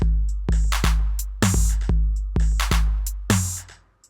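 A drum beat programmed in GarageBand, booming kicks and sharp snare hits in a repeating pattern, punchy and loud with nothing else playing.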